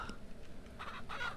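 A chicken clucks in the farming game Ranch Simulator, a few short, soft clucks close by against a faint background.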